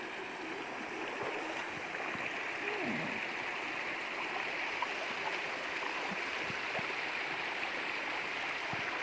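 Water pours steadily over a small dam outdoors, a continuous broad rushing and gurgling that stays loud and even throughout with no voices.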